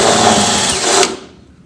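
A power drill whines steadily at close range as it bores into a 1966 Chevelle door, holding a loud, continuous tone for about a second before the motor spins down and fades.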